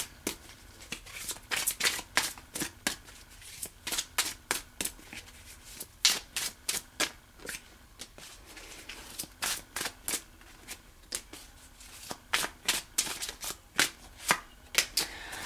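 Tarot cards being shuffled in a steady run of crisp riffling bursts, repeated quickly and close, with no talking over them.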